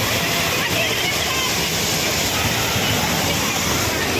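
Janali Mandali waterfall in Achham, Nepal, roars as a loud, constant, close wash of falling water with no break, while a voice talks over it.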